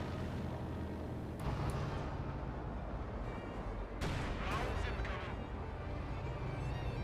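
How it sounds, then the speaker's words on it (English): An artillery barrage in Company of Heroes 2 rumbles continuously, dense booms and crashing impacts layered into a loud, unbroken wall of battle noise with several sharper bursts. "Very nice barrage."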